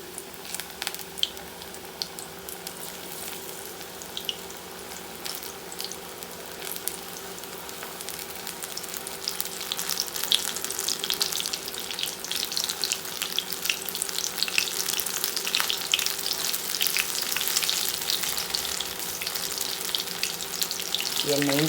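Brinjal and potato pakoda batter frying in hot oil, a steady crackling sizzle that swells louder about halfway through and stays busy to the end, with no talking.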